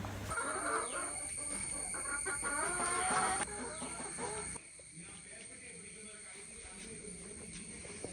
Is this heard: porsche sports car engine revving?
no